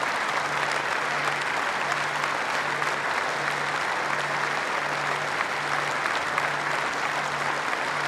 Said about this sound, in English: players, coaches and fans took part in a moment of applause before each match